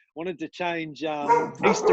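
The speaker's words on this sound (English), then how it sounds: "There's a dog." A dog at a campsite, near a pitched tent, lets out a quick run of sharp barks and yips, fairly close, in a burst of several calls with rising intensity toward the end.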